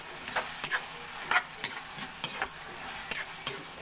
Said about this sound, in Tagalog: Gisahin muna kami yung corned beef.